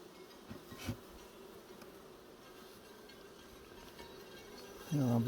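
Honey bees in an open beehive make a faint, continuous low buzz, with a brief human voice at the end.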